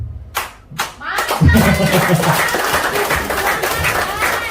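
An audience at a business presentation claps: a few sharp separate claps, then a dense, sustained wave of applause with voices mixed in.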